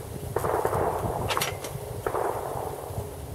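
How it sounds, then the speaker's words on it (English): Several faint, distant cracks like gunshots echo over a noisy outdoor background, spaced irregularly with no talking. "there's a gunshot in the distance."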